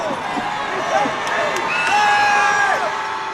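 A basketball crowd at a Savannah State game cheers and shouts in a short, lively burst, with whistles and high voices rising over the general din.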